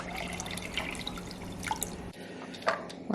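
More water runs into an Instant Pot holding soaked chickpeas, a close, splashy trickle that briefly drops off and then resumes with a few drips.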